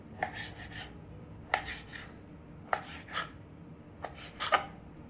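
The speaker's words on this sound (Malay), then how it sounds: "Macam ni abang akan potong cube." A knife cuts beef into cubes for Kedah-style korma, sounding as four or five separate sharp thuds on a board at irregular intervals, each with a brief scraping tail, close by and without speech.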